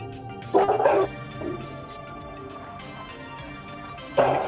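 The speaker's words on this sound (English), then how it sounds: "Give me a minute to shut the dogs up." Dogs indoors let out two short bursts of barking with a quieter stretch between them.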